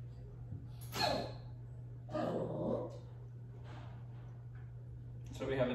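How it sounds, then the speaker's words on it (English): A dog barks and growls from a fence nearby, a few rough bursts spaced over several seconds, moderately loud over a steady low hum and quiet breathing. "So we have a dog at the fence who wants to be out here training, getting some food."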